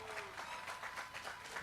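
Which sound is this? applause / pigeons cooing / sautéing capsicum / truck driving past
applause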